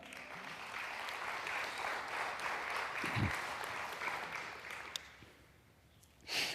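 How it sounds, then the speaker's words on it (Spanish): A church congregation applauds steadily for several seconds in a large hall, a dense and even wash of clapping that thins out and fades near the end before a brief final swell. "¿Le da un aplauso a Él?"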